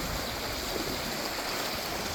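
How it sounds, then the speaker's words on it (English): A flooded brook in Scotland, Connecticut, swollen to the width of a small river, gives a steady, broad rush of flowing water, close and continuous with no voices. "they call it the Beaver Brook, but this is without a doubt a river now"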